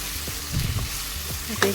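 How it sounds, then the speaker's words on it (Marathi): Taakla, a wild leafy green, sautéing in a pan, with soft sizzling and a few scraping stirs, moderately close and without talk. "दोन मिनिट परतवून घेणार आहोत"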